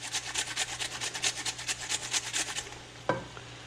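Potato is grated on a handheld cheese grater over a frying pan, with a run of rapid rhythmic rasping strokes, then a single knock as the strokes stop.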